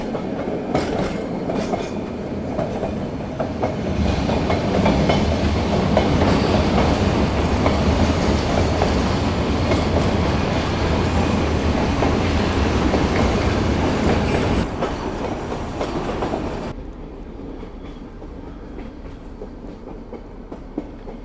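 The Nilgiri Mountain Railway toy train runs toward Ooty past tea plantations with a loud, continuous rumble and clatter of carriages on the track. A high, steady squeal rises midway and then stops as the noise drops to a softer roll.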